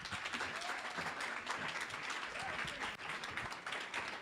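Audience applause at the Boston EdTalks annual convening: a sustained, even wash of many hands clapping from a seated crowd, moderately distant and continuous throughout.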